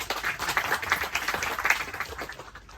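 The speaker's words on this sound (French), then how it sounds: "Ça mérite quelques applaudissements." Scattered clapping from a small meetup audience, a steady patter of hands lasting a few seconds before tapering off.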